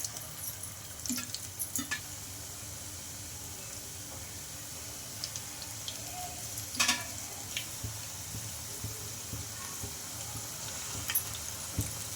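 Dough of ground rice and peanuts fries in oil with a soft, steady sizzle and occasional light crackles and pops, alone with no voices, at a low, even level.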